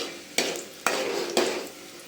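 Fenugreek and garlic frying in a pan for a fresh bombil fish curry, a steady close sizzle broken by three sharp stirring scrapes spaced about half a second apart.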